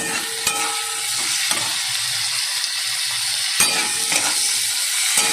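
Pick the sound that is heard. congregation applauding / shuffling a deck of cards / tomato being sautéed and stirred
tomato being sautéed and stirred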